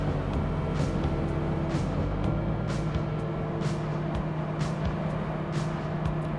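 An old Toyota 4Runner engine strains up a mountain road, a low steady drone running throughout with faint intermittent hiss and wind noise over it.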